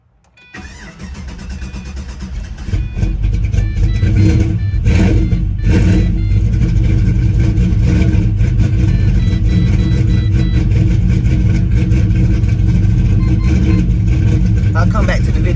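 A Pontiac GTO with a slight stumble off idle cranks and fires, then its engine settles into a loud, close, steady idle as it warms up.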